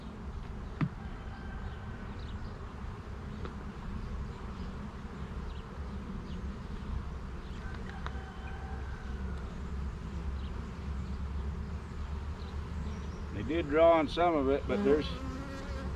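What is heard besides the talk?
bees buzzing in hive box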